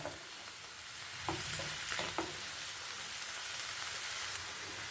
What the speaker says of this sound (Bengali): দু মিনিট মতো নেড়ে নেব।